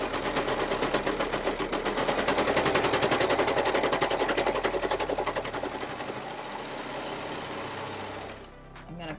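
A Brother 1034D or 1034DX serger stitches through four layers of denim in one steady, loud, rapid mechanical chatter that runs continuously and eases off near the end.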